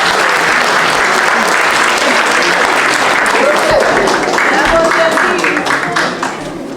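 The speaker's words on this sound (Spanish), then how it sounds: "Un aplauso, por favor," A crowd at a commemoration for the 140th anniversary of Emiliano Zapata's birth at a journalists' club breaks into steady, dense applause. The clapping holds loud and even for several seconds, then fades toward the end.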